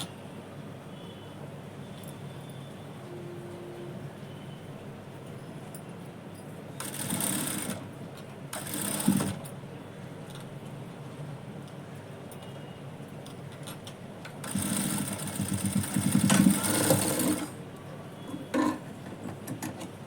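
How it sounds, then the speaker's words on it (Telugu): A sewing machine stitches blouse lining in two bursts of fast whirring and clattering, one short and one longer, heard up close over a quiet room with faint handling noises between runs. "చేసుకొని మళ్ళీ దాని మీద మనం స్టిచ్చింగ్ అనేది చేసుకోవాలి"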